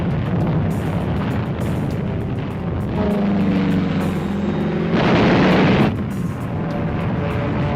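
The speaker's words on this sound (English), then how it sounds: "Wave after wave of American aircraft paved the way with a massive aerial bombardment." Aerial bombardment in WWII footage of American aircraft produces a continuous loud rumble with heavy booming explosions and a surge of noisier blasts toward the middle.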